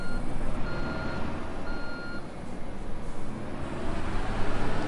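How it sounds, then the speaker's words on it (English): A dump truck in the construction game Construction Simulator 2 sounds repeated evenly spaced reversing beeps over a steady low engine rumble, clear and continuous with no talking. "let's see how much the dump truck has before I send it back"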